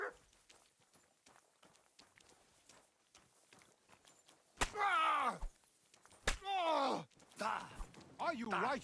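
In Kingdom Come: Deliverance 2, a few soft, sparse horse hoof knocks at first, then raised voices shouting and groaning over them, with game effects.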